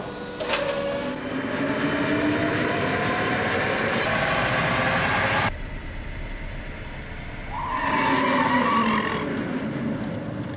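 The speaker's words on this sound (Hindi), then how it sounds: "प्रदर्शन की जांच के लिए रोल एंड ब्रेक" Tata Nexon EV electric car running on a roll and brake test rig, a loud mechanical whirring and rumbling that cuts off sharply midway, then returns with a rising whine.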